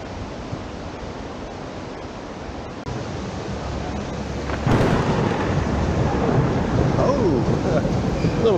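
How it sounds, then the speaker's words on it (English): A rumble of thunder in the mountains of Andorra, a low broadband roll that swells about halfway through and then stays loud, with steady wind or rain noise underneath and no talking. "Bit of thunder happening here."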